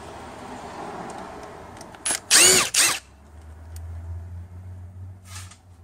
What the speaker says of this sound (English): I'm going to just whiz off the rest of them there.